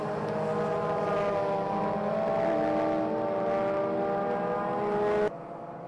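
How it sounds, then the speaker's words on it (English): Race cars at a 750 MC six-hour relay race, including a TVR V8, with a loud sustained engine roar and steady harmonic drone that holds nearly constant, then cuts sharply to quieter background near the end. "34A is the TVR V8 and Great team of Mike Luck."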